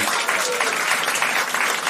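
A large audience claps continuously and loudly at a live talk event, a dense, even wash of applause that never lets up.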